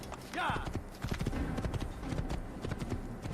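Hooves of a horse in the video game Assassin's Creed clip-clop in a quick, even gait, close and clear, with a short whinny near the start.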